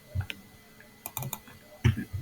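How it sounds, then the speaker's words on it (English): Typing on a computer keyboard during a programming lesson produces quiet, close clusters of key clicks with short gaps between them, set against a faint background. "I hate typing too much."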